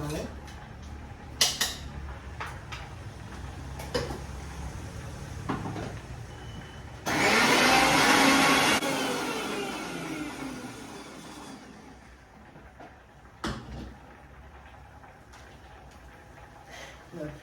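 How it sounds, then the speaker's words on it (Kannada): An electric mixer grinder coarsely grinds chutney in a loud whirring burst of a few seconds that fades down, with kitchen clinks and someone talking before and after. "ಇದನ್ನು ಮಿಕ್ಸಿಯಲ್ಲಿ ತರಿ ತರಿಯಾಗಿ ರುಬ್ಕೊಳ್ಳೋಣ"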